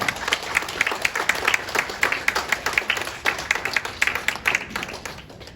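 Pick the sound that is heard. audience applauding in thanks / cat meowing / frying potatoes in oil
audience applauding in thanks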